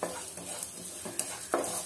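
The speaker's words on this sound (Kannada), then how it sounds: "ಗ್ಯಾಸನ್ನು ಮೀಡಿಯಂ ಫ್ಲೇಮಲ್ಲಿಟ್ಟು ಫ್ರೈ ಮಾಡ್ಕೊಳ್ಳಿ" Fenugreek, cumin, mustard seeds and hing frying on a medium flame in a pan for rasam powder, giving a soft continuous sizzle with a few brief stirring scrapes near the end.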